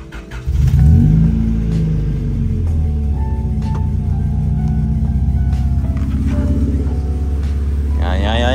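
A 1999 Honda Civic SiR engine cold starting: a quick crank catches into a loud, steady, close idle rumble that holds throughout, with a short rise near the end.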